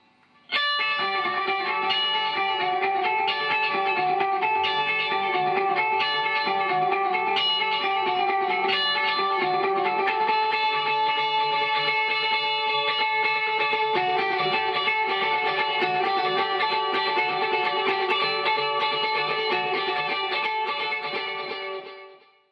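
Electric guitar through a Boss GT-100 plays a sustained, shimmering line washed in modulated echoing delay and spacious reverb, steady and unaccompanied by voices.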